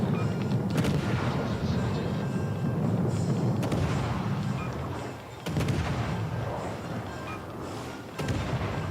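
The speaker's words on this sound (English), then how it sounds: "Even my secondary gun is joining in against this Dunkirk." Secondary guns on a warship in the naval game World of Warships: Legends fire over a dense rumbling battle bed, several sharp booms spaced a few seconds apart.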